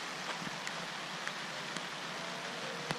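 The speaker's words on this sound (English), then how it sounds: "it's freaking raining" Steady rain falling outdoors, a dense even hiss with a few sharper drop ticks scattered through, constant and fairly close with no voices.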